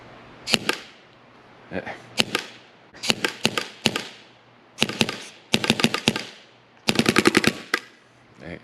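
An N4 Odin gun firing rapidly in loud, sharp clustered bursts of shots, with short pauses between groups that grow longer toward the end, close and without speech.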